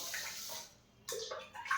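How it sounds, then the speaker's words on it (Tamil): Rice and lentils are rinsed in water, giving close swishing and sloshing in two short bursts separated by a brief pause, with no voices. "நல்லா ஒரு 2-3 தடவை நம்ம கழுவிடுவோம்."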